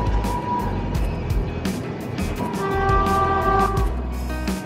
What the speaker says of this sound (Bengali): চলে এসছে পূর্বা এক্সপ্রেস।